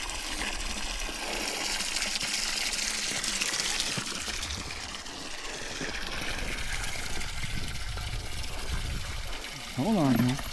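Water pouring steadily into an animal water trough during farm chores, a continuous gushing and splashing that runs throughout, with a brief voice near the end.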